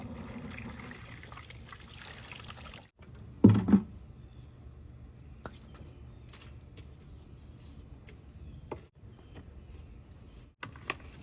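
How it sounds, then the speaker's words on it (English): Water being poured into an aquarium canister filter, a soft continuous trickle and splash that stops and starts a few times, quiet and close, with a brief louder slosh early on. "Now I'm gonna pour some of this in there and then fill it up"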